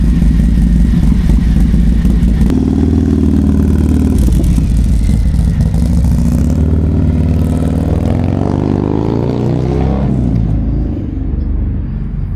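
A motorcycle fitted with a 475 cam revs hard and close up, its throttle swelling and dropping through several loud, rumbling bursts with a rising whine, then settling toward the end. No one speaks.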